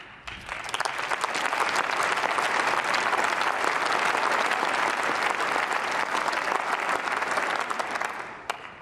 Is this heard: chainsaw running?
no